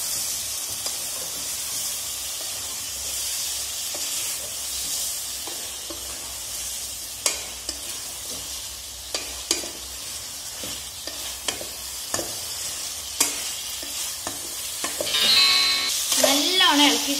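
Tapioca pieces are stirred in a salted pan over high heat as their water cooks off: a steady sizzling hiss broken by sharp spatula scrapes and taps, growing louder and busier near the end.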